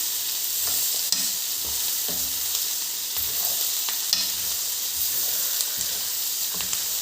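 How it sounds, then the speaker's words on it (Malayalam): Green beans stir-fried Kerala style in a pan, a steady sizzle with scraping stirs of a spatula recurring every second or so, close and continuous with no talking. "നമ്മൾ ബീൻസ് ഇട്ടു, ഇതൊന്ന് മിക്സ് ചെയ്യാം."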